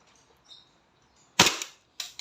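A DB 1911 MEU semi-automatic airsoft pistol fires two sharp, loud cracks about half a second apart, with faint background noise before the shots.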